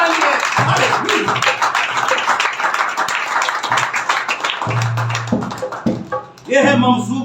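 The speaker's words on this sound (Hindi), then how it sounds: "एक बार जोरदार तालियां।" A church congregation claps loudly and rhythmically in quick, steady beats, with a voice speaking over the clapping and strong sustained tones joining toward the end.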